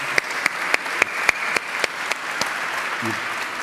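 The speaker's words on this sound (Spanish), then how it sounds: "Un aplauso." Audience applause at a festival opening ceremony: a crowd claps steadily throughout, with regular sharp claps standing out above the dense clatter, fairly close and loud, with no voice over it.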